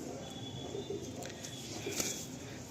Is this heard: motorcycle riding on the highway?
no